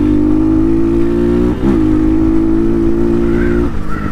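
An Amazon-bought Chinese Honda-knockoff dirt bike engine revs loudly and close, holding a steady buzzing pitch, briefly dipping and climbing at the midpoint, then settling back into a sustained drone.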